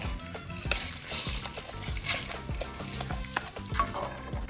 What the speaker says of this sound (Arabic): ادي تقليبه حلوه، انا عايز المرقه دي تشرب الرز كله